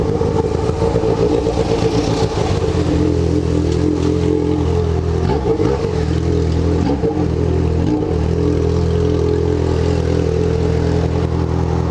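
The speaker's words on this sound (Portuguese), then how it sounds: "acelera até explodir o motor, tio." Yamaha XJ6 motorcycle accelerating hard on a long straight road, loud continuous engine roar with rising and falling revs through gear changes, plus wind rush throughout.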